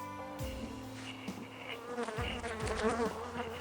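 Honeybees buzz close by, a dense droning hum with pitch swoops as individual bees fly past, no talking.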